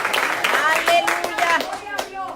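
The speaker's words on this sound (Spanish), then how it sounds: "Denle otro aplauso fuerte al Señor." A church congregation claps loudly in quick, uneven bursts of many hands, and a voice carries over the applause throughout.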